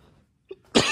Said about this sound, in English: Sawdust is killing me, so excuse the coughing